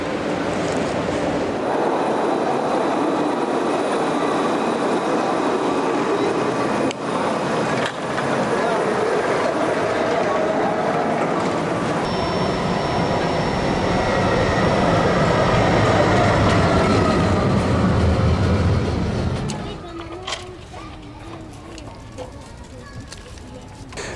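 Tram rumbling through an underground station serving Strasbourg's central rail station, a steady loud mechanical roar with faint squeals that builds then drops away abruptly near the end, leaving quieter station ambience.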